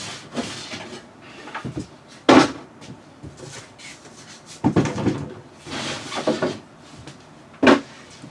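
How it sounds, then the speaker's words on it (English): A wooden drawer pulled out and handled aboard a sailboat during a refit, with scattered thumps, slides and knocks in irregular bursts, a few sharp clunks standing out. "So then I would pull the drawer."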